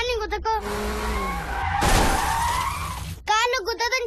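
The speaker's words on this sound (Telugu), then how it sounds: "కార్లు గుద్దదని చెప్పానా?" A crash in a racing video game, with a sustained tire skid that ends in a bright, shattering impact. Game voices or music sound briefly before and after it.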